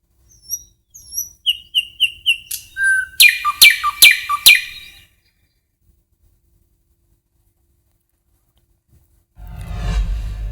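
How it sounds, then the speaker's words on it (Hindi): Several birds sing in a forest, bright chirps and whistled notes arriving in quick repeated phrases and a dense burst of calls, then a pause before a low rumble and faint chatter near the end. "हाल ही में चीतल का एक मनमोहक वीडियो सामने आया, जिसमें पक्षियों की मधुर आवाज भी सुनाई दी है।"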